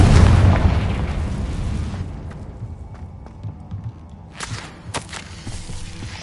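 A fiery Confringo spell blast in the Hogwarts Legacy video game hits with a loud, booming burst that decays over about two seconds, followed by quieter scattered pops and crackles.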